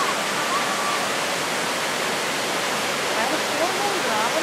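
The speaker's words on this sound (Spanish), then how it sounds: "En Raguana tenemos estas cascadas." Ravana Falls, a waterfall near Ella in Sri Lanka, roars as a steady, dense wash of falling water that holds constant and fills the whole moment at close range.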